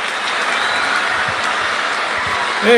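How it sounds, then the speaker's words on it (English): Crowd applause in a cricket video game rolls as a dense, steady wash of clapping for the whole stretch, with a short voice just at the end. "The crowd loves it."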